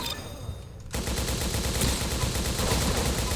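A grease gun fires rapidly in Roblox Arsenal, a sustained burst of closely spaced game gunshots starting abruptly after a brief quieter moment and running loud to the end.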